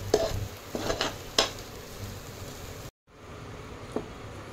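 A spoon stirs and mixes salted filling in a pan for Radhaballavi, with a few sharp scraping strokes at the start, then softer, steady mixing, a brief silent gap, and one more light clink.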